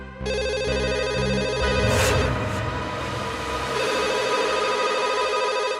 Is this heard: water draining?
no